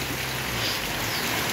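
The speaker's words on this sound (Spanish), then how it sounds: "Miren, por acá está lloviendo," Steady rain falls outdoors during a heavy early-morning downpour, a dense, even hiss of drops striking surfaces without pause, close and fairly loud.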